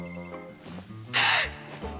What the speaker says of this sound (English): did a whole gaggle of birds just, like, spawn out of Earth itself?